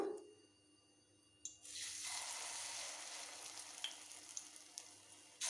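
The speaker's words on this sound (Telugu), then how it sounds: "ఇప్పుడు స్టవ్ మీద ప్యాన్ పెట్టుకొని వీటిలో కొంచెం ఆయిల్ వేసుకున్నాం. ఇప్పుడు పునుగులు వేస్తున్నాను." Moong dal fritters (punugulu) dropped into hot oil in a pan, quiet at first, then a sudden steady bubbling sizzle that fills the rest of the stretch, close and fairly soft, with no talk.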